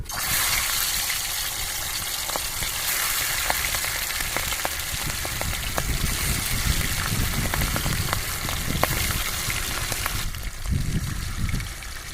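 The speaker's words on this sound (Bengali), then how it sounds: "তেল গরম হয়ে গেছে এবার আমি মাছটা দিয়ে দেবো" A large river boal fish frying in hot oil, giving a steady, loud sizzle with crackling pops and spits scattered across the whole stretch and no talking.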